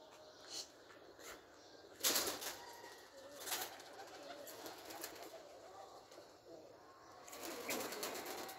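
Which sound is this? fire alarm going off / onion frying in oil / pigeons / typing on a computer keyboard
pigeons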